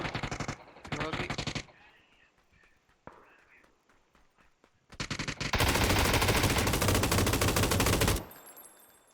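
Automatic gunfire in a first-person shooter game: short bursts at the start, then a long, loud sustained volley of rapid shots lasting several seconds, with quieter game ambience between.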